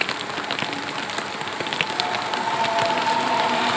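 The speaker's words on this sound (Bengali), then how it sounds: "আমরা এখন বৃষ্টিতে রিকশায় বসে বসে অপেক্ষা করছি।" Rain falls around a rickshaw, a steady broadband hiss with scattered drop impacts that grows slightly louder toward the end, with no talk.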